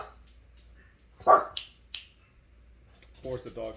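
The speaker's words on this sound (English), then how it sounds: "Of course, the dog has to bark." A dog barks once nearby, sharp and brief, followed by a couple of small clicks and then a voice in a quiet room.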